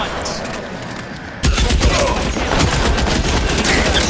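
Bursts of gunfire in LA Noire crackle in quick succession, starting loud and dense partway through and continuing steadily under game noise.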